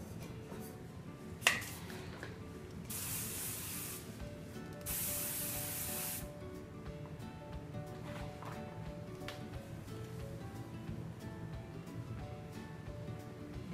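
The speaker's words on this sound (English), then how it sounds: "You also can put some hairspray in your hair." Hairspray sprayed onto a fishtail braid in two steady hissing bursts of a couple of seconds each, close by, after a sharp snap-like click, then quiet room tone.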